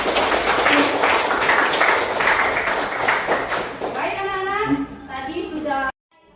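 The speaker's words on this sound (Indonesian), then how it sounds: "Aplaus untuk kalian semua" Schoolchildren clap for each other in a classroom after group presentations, a loose patter of applause mixed with a teacher's speech, and then clear talking before the sound cuts off.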